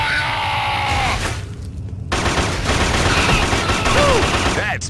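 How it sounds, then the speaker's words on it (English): Heavy gunfire in the shooter video game Killzone, with dense, rapid bursts of shots and explosions filling the mix, a brief lull mid-clip, and shouting voices mixed in with the combat. "Taking heavy fire!"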